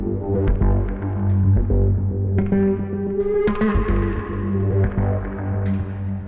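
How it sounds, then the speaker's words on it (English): A fireworks synth line run through a Kilohertz Convolver, its tonal notes carrying a crackly, smeared convolution texture on each transient, with a slight echoing tail, loud and alone. "we get kind of a nice crackly texture on the transients of the synth line"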